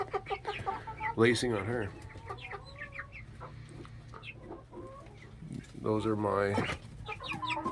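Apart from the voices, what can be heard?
chickens, roosters and hens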